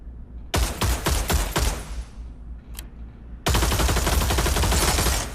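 FAMAS rifle fire in the VR shooter Pavlov: a short burst of several sharp shots, a pause with one faint click, then a dense sustained automatic stream to the end, loud and close.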